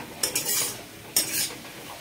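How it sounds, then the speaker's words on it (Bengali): Coconut and banana flower being fried in a pan, with two sharp spoon scrapes and stirring bursts over a faint background hiss, no voices. "এটা লাল করে ভেজে নেবো নারকেলটা ভালো করে।"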